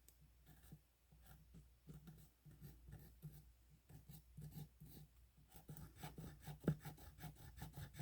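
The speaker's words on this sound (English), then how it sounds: "But it is easier to sand when it's like this versus waiting until it gets rock hard." Hand sanding a soft ceramic resin gingerbread house gives a close, steady run of dry rasping strokes in an irregular back-and-forth rhythm, with no voices heard.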